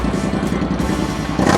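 A Harley-Davidson motorcycle engine runs close by at a dealership with a steady, throbbing low rumble, swelling louder near the end as if revved.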